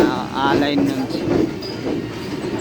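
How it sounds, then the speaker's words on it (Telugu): A Vande Bharat Express rolls by alongside a Mumbai local train in the rain, a rumbling, clattering pass with a brief voice speaking over the start. "ఇంకో వందే భారత్ ఎక్స్ప్రెస్ వస్తుంది."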